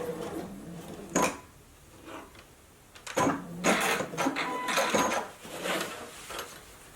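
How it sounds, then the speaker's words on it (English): A JUKI sewing machine top stitches a seam on a fabric face mask, running in several short mechanical bursts with brief pauses between them, close and moderately loud. "I've top stitched both sides of the seam down to hold them in place"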